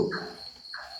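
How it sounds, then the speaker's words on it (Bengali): Crickets chirp at night beside a deserted road in cold wind: two short, shrill bursts about half a second apart, close and clear against a quiet background. "শুধু ঝিঝি পোকার ডাক আর ঠান্ডা হাওয়ায় শুকনো পাতার খসখস শব্দ।"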